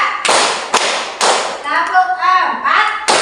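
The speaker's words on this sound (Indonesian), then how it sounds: "Tepuk 1, tepuk 2, tepuk 3," A class of primary pupils claps out a counted rhythm in a Grade 6 classroom, with loud sharp clap bursts spaced roughly half a second apart, while a teacher speaks between the claps.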